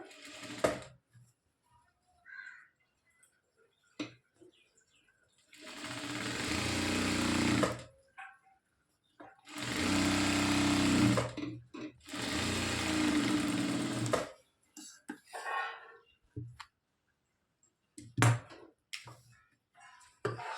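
A sewing machine stitching a blouse runs in several separate bursts of a few seconds each, separated by quiet gaps with faint handling clicks.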